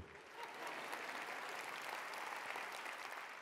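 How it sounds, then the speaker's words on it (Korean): Steady applause from a sizable audience, dense and even throughout, with no talking over it. "격려의 박수 좀 부탁드릴게요."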